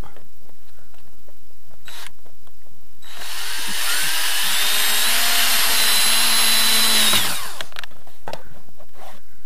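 A power drill driving a screw into wood on a veranda under rebuild, one steady whirring run of about four seconds, loud and close, with light handling knocks before and after.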